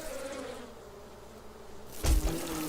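Bees buzzing in the video game 7 Days to Die, a steady droning hum that runs close throughout, with a louder swell or thump near the end.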